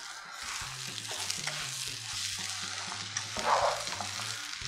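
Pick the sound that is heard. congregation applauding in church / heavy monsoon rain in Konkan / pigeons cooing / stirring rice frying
stirring rice frying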